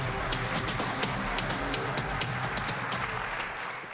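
Sustained applause from a large keynote audience at VMworld 2015, a dense, even wash of many hands clapping that holds steady throughout without any voices.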